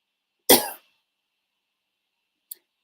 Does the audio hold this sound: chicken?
no